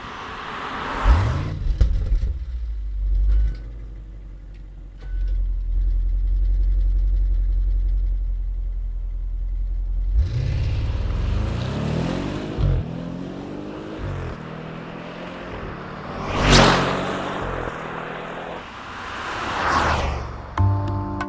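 An Audi S8 with 605 hp idles with a low, muted hum, then its engine is revved several times in rising and falling swells, smooth and subdued rather than loud, heard close with no talking.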